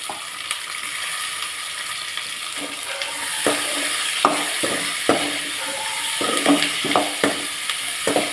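Onion and tomato sauté in a pan with a continuous sizzle, while a spatula scrapes and stirs in irregular knocks that grow busier toward the end. No voices are heard.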